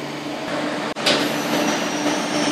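A Mollart HD2-2000 BTA deep hole drilling machine runs steadily with coolant system and spindle going, a broad continuous mechanical hum with tonal whine, a brief dropout and a sharp hiss burst near one second before drilling steel.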